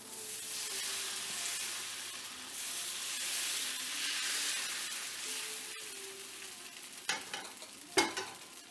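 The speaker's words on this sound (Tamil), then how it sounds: "இந்த மாவில் கொஞ்சம் எடுத்து நான் தோசை ஊற்றுறேன்." Bottle gourd dosa batter sizzles on a hot pan, a steady frying crackle with a spatula scraping and stirring now and then and a couple of sharp clinks near the end.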